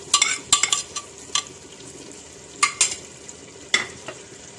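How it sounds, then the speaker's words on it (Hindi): Fried onions tipped into cooking tomatoes in a pot for mutton stew, with sharp spoon scrapes and clanks against the metal in irregular bursts over a soft background sizzle, close and without talk. "इसके अंदर अब हम जो प्याज हमने फ्राई की है ये सारी प्याज डाल देंगे"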